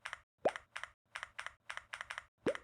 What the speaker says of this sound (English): It's my keyboard.